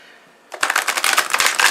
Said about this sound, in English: Now they shuffle very good this way, breaks up just fine